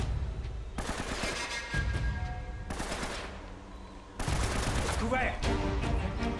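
Enemy gunfire in Uncharted: Drake's Fortune on PS4 comes as dense bursts of rapid shots and booming fusillades, loud and near. A player talks over the battle.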